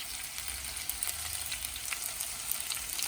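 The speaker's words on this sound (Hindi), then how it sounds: "इसमें मैं पास्ता सॉस ऐड कर दूंगा। तो ये tomato and Basil pasta sauce" Tomato and basil pasta sauce hitting a hot pan, a loud continuous sizzle and hiss with light stirring scrapes throughout, close and unbroken.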